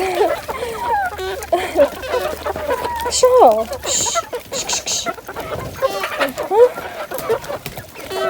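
Several farmyard hens cluck in short, repeated bursts close by, with a rooster-like call mixed in and a person talking over the birds.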